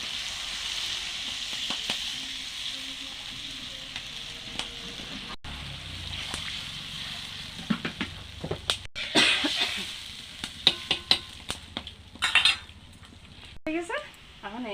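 Water poured into hot oil in a pan while cooking a pumpkin seed and jackfruit seed dish, giving a steady close sizzle with scattered clinks and scrapes of utensils on the pan.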